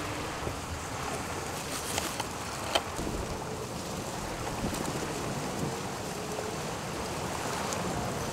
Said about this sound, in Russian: Ветер дует вообще еще нормально